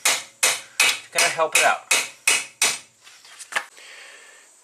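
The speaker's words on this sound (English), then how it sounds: "you can take a hammer and just tap right here on the adapter" A hammer raps on a wheel bearing adapter on an abandoned Audi turbo, about eight sharp, evenly spaced metallic strikes close by, then a few fainter taps, with someone briefly speaking.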